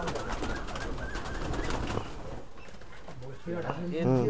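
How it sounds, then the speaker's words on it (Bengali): Madrasi highflyer pigeons, including a white red-eyed male, coo in a loft, their soft repeated calls mixed with a busy background of other birds and someone talking over them. "এই যে এটা নর পায়রা, এই যে নর পায়রা পুরো বডি সাদা, চোখ লাল, এইটা নর।"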